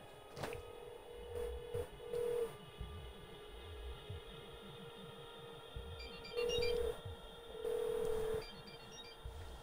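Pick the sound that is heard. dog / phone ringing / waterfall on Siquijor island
phone ringing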